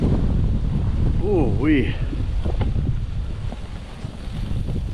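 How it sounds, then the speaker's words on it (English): Strong, brutal wind from a snow storm at a tent campsite roars steadily and loudly against the microphone, with a brief voice exclaiming partway through. "I wish you could feel that wind hit your face, because, man, it is brutal."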